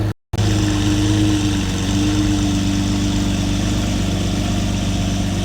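A Lamborghini engine idles close by with a loud, steady, deep rumble and a droning tone, continuous after a brief dropout at the start.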